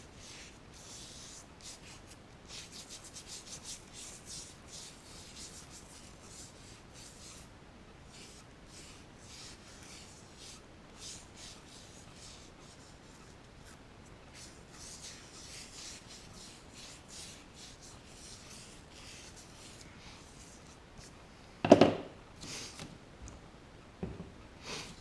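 A small brush rubs penetrating oil onto a rusty metal part in quiet, soft scratchy strokes repeated close by, with a brief louder knock near the end.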